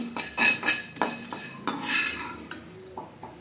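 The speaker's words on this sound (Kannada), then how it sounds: "ಫಸ್ಟು ಸಿಗಡಿನ ಚೆನ್ನಾಗಿ ಹುರ್ಕೋಬೇಕು ನೋಡಿ ಈ ಥರ ಹುರಿತಾ ಇದ್ದೀನಿ" Shrimp frying and being stirred in a pan, with a run of metallic scrapes and clinks from a utensil against the cookware over a faint sizzle, close and moderately loud, no talking.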